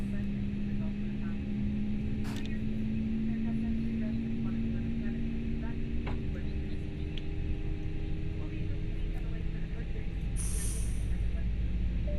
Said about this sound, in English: Okay, I can start the second engine.